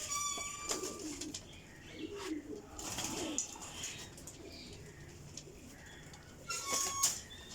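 Pigeons coo softly at close range in a loft, with scattered chirps and faint wing flutters, and no talk over them.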